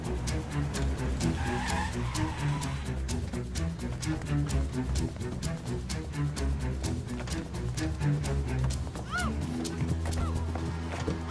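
Tyres skid loudly as a car pulls in during a Tamil film scene, the screech rising over a dense, continuous wash of engine noise, music and effects, with no clear speech.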